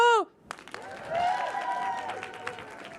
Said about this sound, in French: C'est très surprenant pour moi que vous m'ayez applaudi.